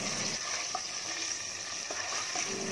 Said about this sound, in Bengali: এখন তেলের সাথে গরম মশলাগুলোকে বেশ কিছুক্ষণ ভাজবো